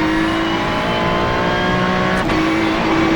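Race car engine held at partial throttle on a straight in a Nürburgring 24 racing game, a steady loud droning tone that barely shifts, with a brief dip near the end.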